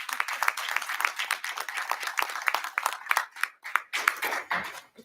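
Applause at a school board of education meeting, a brief round of hand clapping from a small group in a meeting room, with dense uneven claps that thin out toward the end.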